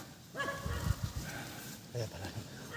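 A dog barks and whines a few times in short bursts, mixed with game sound effects and a person talking over it.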